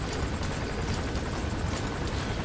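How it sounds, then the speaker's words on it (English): A helicopter hovers overhead in Metal Gear Solid V, its rotor wash making a loud, continuous, dense thrum with no pause and no voices. "we got a chopper overhead."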